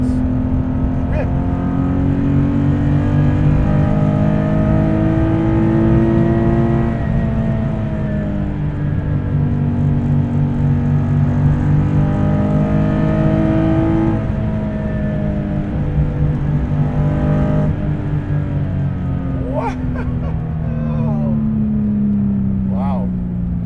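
A Guntherwerks 400R sports car with 431 hp and a 2660 lb weight drives hard, its engine note climbing through the gears and dropping on quick downshifts, a loud, continuous rumble with someone talking over it.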